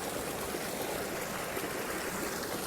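Steady rushing stream of water flowing over rocks outdoors, a continuous full broadband wash at close range with no pauses and no voices.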